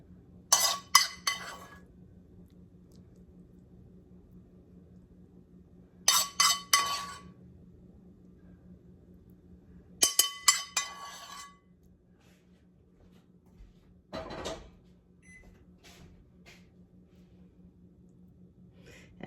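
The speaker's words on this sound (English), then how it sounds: "we are going to take our apples and just spoon those over the top" Apples spooned from a dish over a homemade dessert: a few separate bursts of clinking, scraping utensil-on-dish sounds, close and fairly clear, with quiet pauses and a low steady hum between them.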